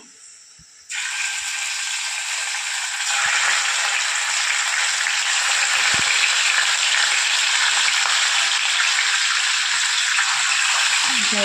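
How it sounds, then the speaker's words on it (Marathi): Fish pieces hit hot oil seasoned with fenugreek seeds, and a loud, dense sizzle erupts after a short quiet moment, holding steady and close with a faint tap partway through. "आता आपण याच्यामध्ये फिशचे पीसेस टाकूया"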